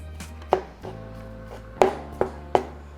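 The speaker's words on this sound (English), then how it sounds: "now we're going to get our carnitas and break them down" Four sharp knife chops on a cutting board as carnitas are cut up for tacos, spaced unevenly, close and distinct over a quiet background.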